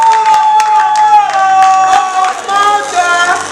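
A crowd at a youth talent contest cheers and applauds, loud and close, with tonal music and a voice running through it.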